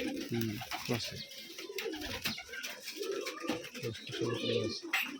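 Low, throaty pigeon coos repeat in short bursts, close by, at a pigeon farm in Rajshahi, Bangladesh, over a busy background of birdsong and chatter.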